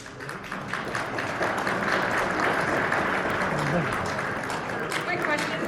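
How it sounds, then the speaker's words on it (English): Half-hearted applause from a conference audience, a steady wash of scattered clapping that holds for several seconds at a moderate level, with some voices mixed in. "Thank you for the half-hearted applause"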